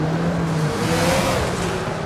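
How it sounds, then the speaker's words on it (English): Race cars roam through a town in the video game Forza Horizon 5, their engines droning and whirring steadily and echoing off the buildings, with no talk over them. "there's all these race cars roaming around right now, and you could hear the remnants of all of it through this town"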